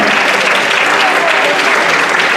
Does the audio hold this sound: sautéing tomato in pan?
no